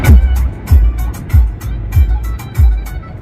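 An eight-year-old Maruti Swift VDI diesel car drives through city streets, its engine giving a steady low rumble with a few heavier surges and bumps close to the microphone.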